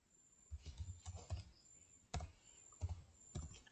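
A formula being typed on a computer keyboard in Excel: clusters of quick, close key taps in short irregular bursts, fairly soft against a quiet room.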